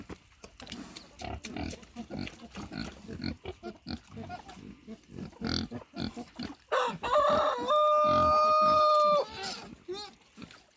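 Chickens cluck and squawk close by among scattered bumps and rustling, with one long, sustained call rising clearly above the rest.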